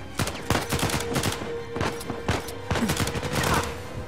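Bursts of assault rifle fire in the shooter game Uncharted 4, repeated sharp close shots in irregular clusters over a steady background hum, with no talking.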